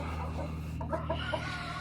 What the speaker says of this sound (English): There's Tiny, the buff Brahma, and the buff Brahma hens here